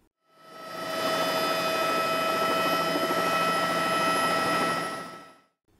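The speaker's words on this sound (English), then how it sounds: "the helicopter will land on the ice and bounce to test the stability." A steady mechanical helicopter rotor hum fades in as it lands on ice on Lake Erie, holds evenly at moderate loudness for several seconds, then fades out; no voices.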